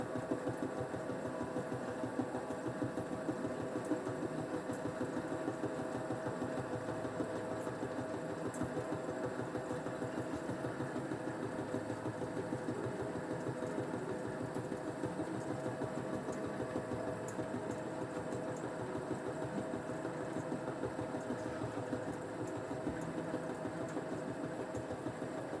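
Lathe turning a metal workpiece at a 1 mm depth of cut, giving a steady, continuous mechanical whir and hum with a fine rattling texture, running evenly and fairly loud throughout with no pauses.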